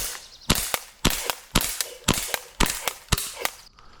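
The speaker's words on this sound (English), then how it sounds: "Let's go ahead and do a little shooting test at about 50 feet and see how accurate this one is" An airsoft gas pistol fires BBs at a target about 50 feet away, giving about a dozen sharp, close cracks in an uneven rapid rhythm, some shots paired quickly, with no talking.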